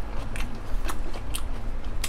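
Raw shrimp marinated in fish sauce, eaten with garlic and basil, being chewed close up: a run of wet, crunchy bites and soft squelches repeating irregularly over a low background hum, with no talking.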